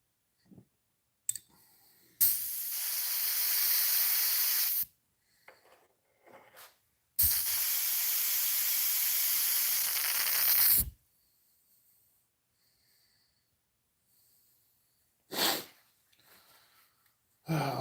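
An airbrush spraying paint onto a musky crankbait lure, two long steady hissing bursts close by, separated by short clicks and pauses, with a brief puff near the end.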